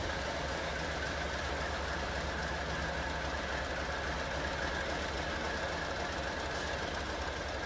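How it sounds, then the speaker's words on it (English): A heavy diesel engine of locomotive D34 rumbles steadily with rail noise as it reverses slowly and continuously into a workshop at moderate distance, with no voices. "D34 came to a controlled stop and then reversed back into the workshop"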